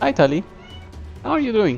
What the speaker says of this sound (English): That's our cat, saying hello to everyone.